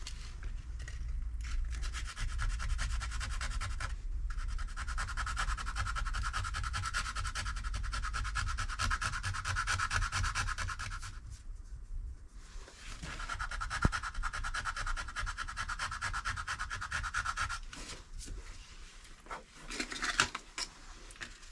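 Close hand sanding of an alloy car wheel with coarse P80 sandpaper, a steady gritty rasping scrub that continues for long stretches with brief pauses in between.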